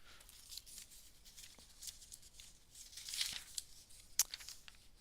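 Magazine paper being torn and cut by hand for a collage, quiet and close, with scattered rips, crinkles and a few sharp snips at irregular intervals, no voices.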